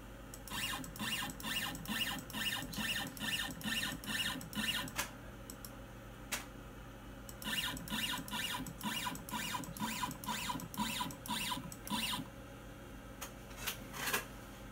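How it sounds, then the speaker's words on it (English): An X-Carve CNC machine moves along its axis in steady increments, each step a short whirring buzz of the stepper motors repeating in quick rhythm, with a brief pause mid-way before another run of moves, fairly quiet and with no talk. "Let's see what happens when I move the machine to that point."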